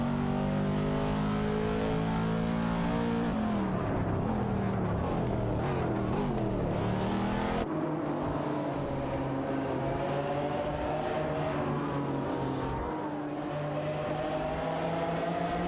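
A Ford GT17 and an Aston Martin 177 battle in a racing video game, their engines droning loudly and continuously, with revs rising and falling through gear changes and no talk.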